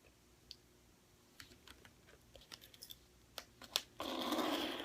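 Scissors cutting an accordion file in a straight line, making a run of crisp, close snips and clicks, followed by a louder continuous rasp at the end.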